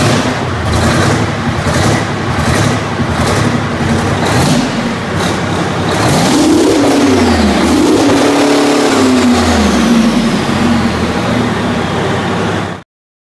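A diesel two-stroke V12 of 1,650 horsepower, taken from a massive mining vehicle, runs loud and close. A dense, continuous roar rises and falls as the engine revs, with no voices over it.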